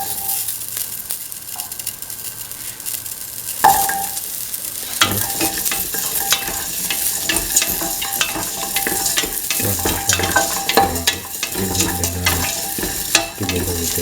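Shallots sizzle steadily in a hot pan for a vegetable soup while a utensil stirs and scrapes through them, with busy clatter from the middle onward and a constant crackling fry underneath, close and without talk.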